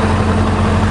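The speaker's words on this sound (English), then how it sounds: "The timing chain rattles in the engine a little bit." A Voyager motorcycle engine idles steadily and loudly with a faint rattling timing chain, a constant low rumble with no talk.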